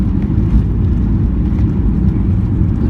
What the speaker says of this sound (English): Touchdown.